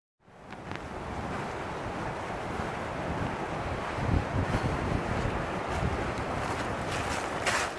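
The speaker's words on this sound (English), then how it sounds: "right now the skies are blue and the wind's blowing" Steady wind gusting outdoors at the Kalabus Perry nature preserve on a clear day, a continuous broadband rush with microphone buffeting that swells slightly midway, with no voices.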